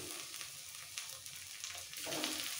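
Chopped tomatoes hit hot oil with frying onions for a katla fish curry, giving a steady close sizzle and crackle throughout, swelling louder near the end.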